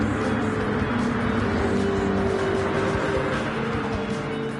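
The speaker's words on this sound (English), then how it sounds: "So many cars, it's so noisy." Race cars in Gran Turismo 7 roar together in a dense, continuous engine drone, steady and loud throughout with overlapping revving and no voices.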